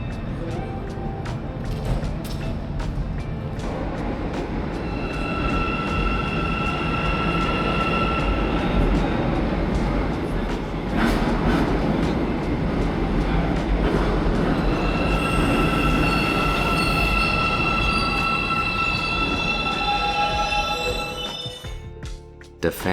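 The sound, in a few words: Almaty metro train built by Hyundai Rotem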